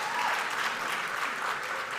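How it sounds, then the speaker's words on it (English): Theatre audience at the Kenya Theatre Awards clapping, a dense steady wash of applause from a full hall, without a clear break. "Please clap for yourselves."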